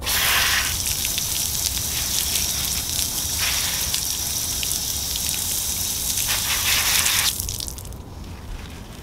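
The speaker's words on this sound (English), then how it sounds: "Let me just rinse this up real quick before I put it into our basket." Water running steadily over freshly harvested radishes and greens, a loud continuous hiss and splash that lasts several seconds and then eases off as the rinsing stops.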